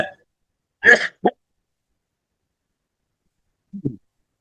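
A couple of short coughs close by, followed after a pause by a faint, brief throat sound, with silence in between.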